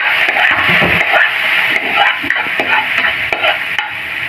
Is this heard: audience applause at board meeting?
no